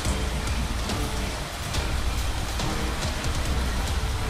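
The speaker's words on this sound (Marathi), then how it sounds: "पुण्यात रात्रीपासून मुसळधार पाऊस सुरू आहे" Heavy monsoon rain pours down in Pune, Maharashtra, making a dense, constant hiss with scattered louder drop hits and no voices.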